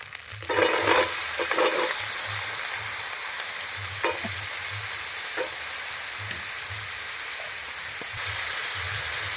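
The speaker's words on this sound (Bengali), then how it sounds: "এবার দিয়ে দিচ্ছি কুচিয়ে রাখা আলু" Chopped potatoes tipped into a hot pan with ginger: a sudden rush of loud sizzling that settles into a steady, bright hiss, with a few faint clinks of stirring and no talking.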